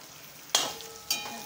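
Cauliflower florets frying in a pan with cooked onions, a quiet sizzle under two sharp stirring scrapes about half a second apart, each fading back into a low hiss.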